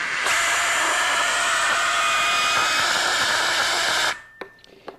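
Steady loud rush of air blown hard through a funnel holding a ping pong ball, a continuous broadband hiss lasting about four seconds before cutting off abruptly, followed by a few faint small knocks.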